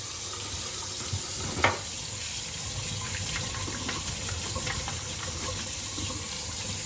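Hot tap water runs steadily over a Homax texture spray can held under the faucet, a constant close splashing flow with one small knock partway through.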